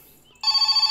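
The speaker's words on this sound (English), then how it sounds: "Fucking phone's ringing and I can't stand up." A telephone rings in My Summer Car, a video game set in Finland, a loud bright electronic trill starting abruptly and pulsing rapidly in steady beats, close and alone.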